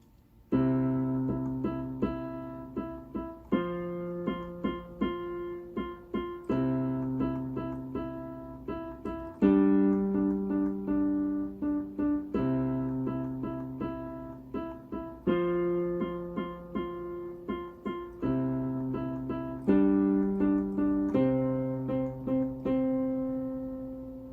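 A piano plays the beginner tune Boil 'em Cabbage Down with both hands together, a steady, even run of simple chords and melody notes repeated in short phrases, clear and close with no talking.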